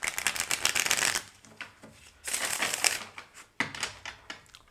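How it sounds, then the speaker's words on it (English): A deck of playing cards being shuffled in close, crisp riffling bursts, three separate rounds with short pauses between them. "But I feel I need to shuffle."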